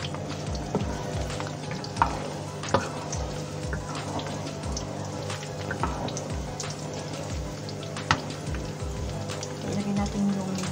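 Minced garlic frying in hot canola oil in a pan, a steady soft sizzle and crackle with occasional stirring clinks and scrapes throughout.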